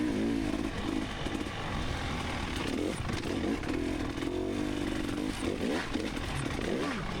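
A dirt bike engine revs and bogs continuously as the rider works through a mellow enduro cross section at a Michigan sprint enduro race in Muskegon; loud, close, rising and falling throttle with clattering over rough ground.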